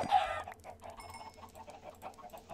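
A burst of chicken clucking from the video game Minecraft opens, then softer rhythmic clucks and pecking-like sounds repeat steadily, with no one speaking.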